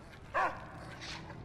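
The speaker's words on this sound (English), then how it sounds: "And look, here's the doggy." A single short, bright dog yip or bark from a video game companion dog rings out once near the start, followed by a faint softer whine-like tone, with quiet background otherwise.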